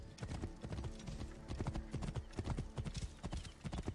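Steady clip-clop of horse hooves trotting in a quick, even rhythm in Assassin's Creed Origins, fairly close, with a low synthetic game-like backdrop.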